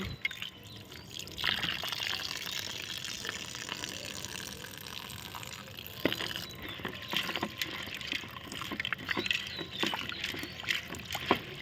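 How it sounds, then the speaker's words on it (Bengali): Chana dal rinsed by hand in water in a home kitchen, washed three or four times: continuous sloshing and swishing of liquid with soft splashes and grainy rustling, fairly close and steady, with no talking. "আমি ছোলার ডালটা ভালো করে তিনবার চারবার করে গসলে গসলে ধুয়ে নিচ্ছি"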